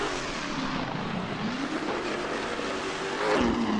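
A Ford GT40 race car in Assetto Corsa launches off the line, its engine roaring and rising in pitch as it accelerates, with a brief wheelspin and a loud surge near the end.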